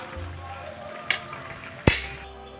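A metal lid comes off a cooking pot of boiled chickpeas and peas with two quick clinks, a light tap then a sharper clatter, over a low background hum.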